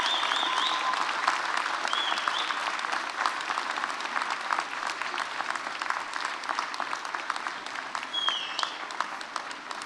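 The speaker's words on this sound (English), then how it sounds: "I would like to ask all the graduates to stand up and applaud your parents" Graduates at a university spring convocation give sustained applause for their parents and supporters, steady crowd clapping filling a large hall for about ten seconds with a few faint voices.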